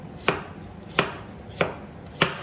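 A knife chops food thinly for miso soup: four crisp, evenly spaced blade strikes on a cutting board, close up with no talking.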